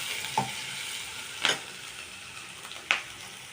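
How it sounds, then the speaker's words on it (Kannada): Soaked ingredients fry in a pan for an amaranth-stem greens dish, a steady close sizzle broken by a few sharp clinks of stirring. "ಸ್ವಲ್ಪ ಫ್ರೈ ಮಾಡಿದ್ರೆ ಸಾಕು ಸ್ವಲ್ಪ ಕ್ರಿಸ್ಪಿಯಾಗಿ ತಿನ್ನೋದಕ್ಕೆ"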